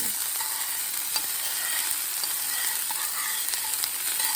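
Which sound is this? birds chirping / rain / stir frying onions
stir frying onions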